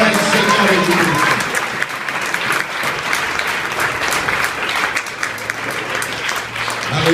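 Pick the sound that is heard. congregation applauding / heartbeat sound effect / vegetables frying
congregation applauding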